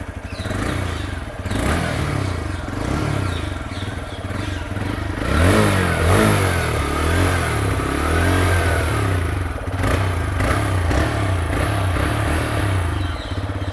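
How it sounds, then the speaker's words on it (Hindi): A TVS Raider 125 motorcycle's exhaust rumbles at idle, then revs up in repeated rising and falling bursts, loud and close throughout, with no talking. "तो ये था टीवी और रेडार का एग्जॉस्ट साउंड"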